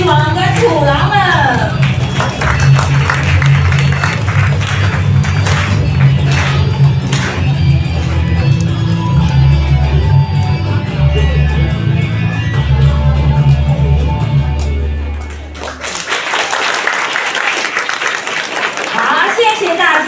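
Congregation applause for Sunday school and youth performers at a church Christmas service. Clapping and scattered taps run over steady background music, which cuts out near the end, leaving a final swell of clapping with some voices.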